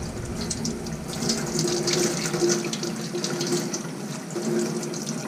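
Water runs steadily from a tap as a foam air filter from a DR650 motorcycle is washed in a sink, a continuous close splashing rush that swells and eases slightly.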